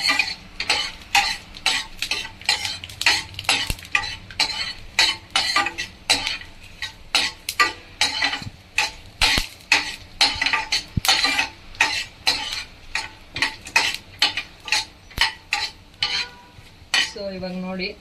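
Chickpeas roasting in a pan, stirred with regular scraping strokes about twice a second that rattle the dry peas against the metal, close and alone without talk.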